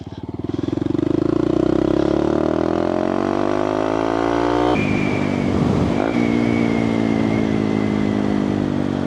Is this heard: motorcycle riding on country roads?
yes